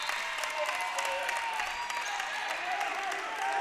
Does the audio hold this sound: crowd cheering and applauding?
yes